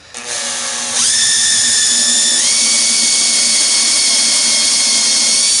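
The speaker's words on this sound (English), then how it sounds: "Holding it firmly in place, I'm going to drill through." A power drill boring through a wooden bracket for a flip-up table saw extension, a steady loud whine that rises in pitch in steps as it spins up, then holds a continuous high drone, close by.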